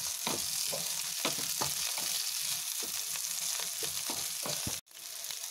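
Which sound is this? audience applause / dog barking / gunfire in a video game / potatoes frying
potatoes frying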